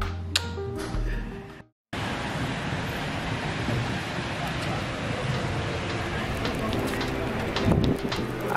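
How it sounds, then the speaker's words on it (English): Steady rain falls in London, a dense, even hiss that fills the scene after a brief break, with scattered patters and faint background sounds on top. "I guess it wouldn't be London if it wasn't raining"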